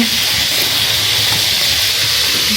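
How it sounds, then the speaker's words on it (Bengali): Fish frying in a pan in a home kitchen, a loud, steady oil sizzle and hiss filling the whole moment with faint low clatter beneath and no talk. "এখানে আমি মাছ ভাজতেছি"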